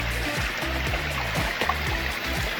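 Stream water flows and trickles steadily along the Arizona Hot Springs hiking trail, a constant close rush with a few low knocks and footfall-like thumps underneath, with no voices.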